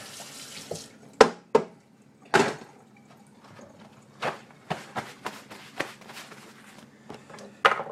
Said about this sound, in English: now I'm going to rinse my false bottom / scraper off again